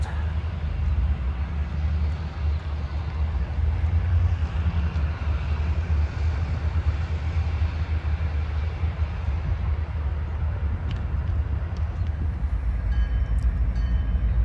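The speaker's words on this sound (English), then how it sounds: "let's wait for the train to cross the diamond here just a second" A heavy train rumbles steadily past close by as it crosses a rail diamond, a deep continuous roar with faint metallic clatter from the wheels.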